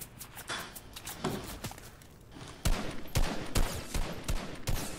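Gunfire in the video game Fortnite, with scattered bursts of shots at first, then sharper, louder rapid reports in quick succession toward the end, heard alone without talk.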